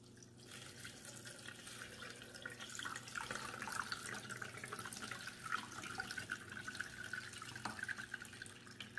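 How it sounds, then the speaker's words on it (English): Water pouring into a betta fish tank, a continuous splashing, trickling flow at close range with faint drips layered over it, fairly soft throughout. "I'm going to go ahead and pour the water in"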